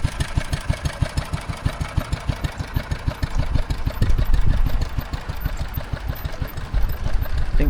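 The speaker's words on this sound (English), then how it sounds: "there's a Wolseley running in the background." A Wolseley stationary engine runs steadily at an agricultural country show, its rapid, even chugging firing beats loud and continuous throughout, with no talk over it.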